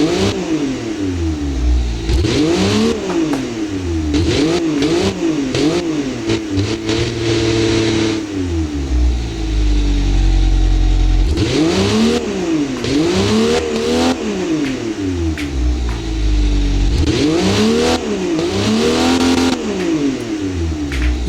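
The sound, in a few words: video game car engine revving without muffler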